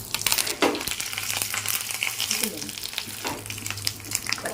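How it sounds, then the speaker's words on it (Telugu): Urad dal, cumin, mustard seeds, dried chilli and curry leaves tempering in a hot pan, a steady crackling sizzle with stirring scrapes and occasional pops, close and continuous with no talk. "ఇప్పుడు పాన పెట్టుకుని ఇందులో ఆన్ చేసి ఇందులో ఉంచి మినపప్పు జీలకర్ర ఆవాలి ఎండు మిర్చి కొంచెం కరివేపాకు"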